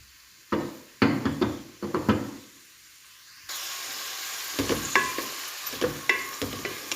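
Onions fry in oil inside a cooking pot for potato and egg gravy: a few loud clattering stirs and knocks, a quiet gap, then a steady hissing sizzle with intermittent scraping.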